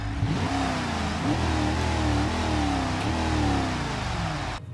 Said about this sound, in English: See, we got some nice revs.